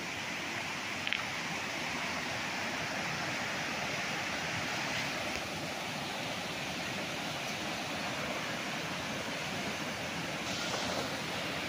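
A river beside a 2.7-hectare farm lot in Siniloan, Laguna rushes with a steady, even wash of flowing water, moderately quiet and unbroken throughout, with no voices.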